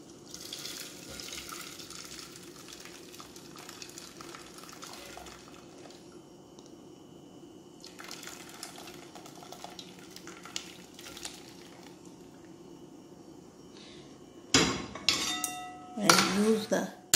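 Boiled tomato rasam being drained in a home kitchen, with steady watery pouring and clatter of metal pots and utensils, growing louder with sharp clinks near the end.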